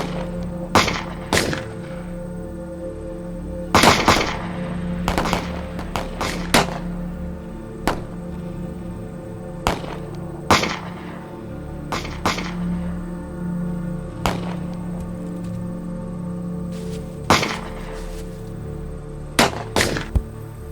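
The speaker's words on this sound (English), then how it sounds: "Keep firing." Gunfire in a western film battle, with repeated sharp shots and scattered volleys spread across the clip over a constant low rumbling background.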